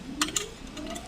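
A hex key tightens screws on an Artillery Sidewinder X1 3D printer frame, with two sharp metallic clicks followed by faint scraping and a rising squeak, heard close up.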